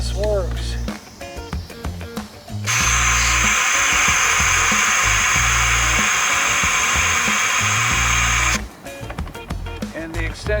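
An air compressor runs on a very long extension cord and struggles to build pressure. A low motor drone throbs throughout, and a loud, steady rushing hiss covers the middle several seconds.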